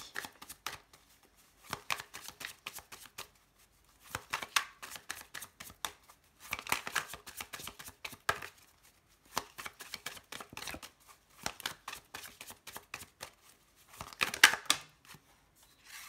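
Tarot cards being shuffled for a reading, in repeated bursts of quick riffling and slapping separated by short pauses, close and fairly quiet, with no talking.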